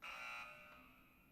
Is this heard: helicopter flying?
no